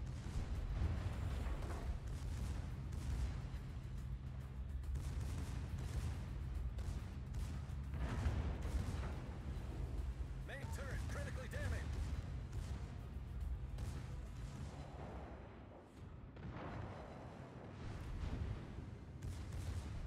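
A battleship's secondary guns fire in World of Warships, a steady barrage of low booms and cracks repeating throughout over rumbling ship and ocean ambience.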